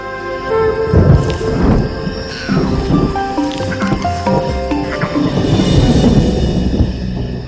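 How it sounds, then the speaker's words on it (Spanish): Thunder rumbles and rain falls through a quiet night where lions rest, with low booming swells and steady broadband hiss throughout, loud and continuous with no voices. "el sonido de un trueno interrumpe el sueño de los leones"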